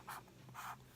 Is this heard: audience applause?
no